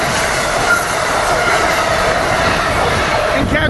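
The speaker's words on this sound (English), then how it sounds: "Here we got Keystone train 646 coming south." A southbound Amtrak Keystone train led by an ACS-64 electric locomotive rolls past at close range, with a steady loud roar and rail rumble throughout and a faint squeal near the end.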